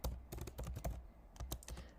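Quiet clicking of a computer keyboard being typed on in quick, uneven bursts of keystrokes with short pauses, heard alone and close.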